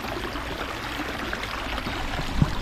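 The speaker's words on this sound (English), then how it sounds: "A regular babbling brook." A small backyard babbling brook trickles and flows steadily at close range, a continuous soft wash of water with no voices.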